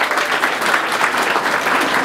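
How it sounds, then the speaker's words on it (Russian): Audience applause at a comedy night, a steady dense wash of clapping from a room full of people, fairly loud and continuous throughout with no voices on top. "Похлопаем"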